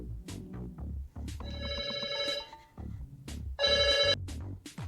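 A mobile phone rings indoors in a bright electronic ringtone in two short bursts, layered over clattering and knocking sounds from nearby activity.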